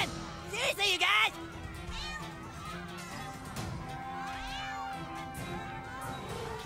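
A kitten meowing in the South Park: The Stick of Truth video game, short cries over game music and background noise, with a person talking throughout.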